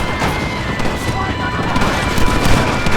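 Dense shootout gunfire from the video game Red Dead Redemption, with overlapping rapid shots and crashes filling the scene loudly and continuously, mixed with shouted voices.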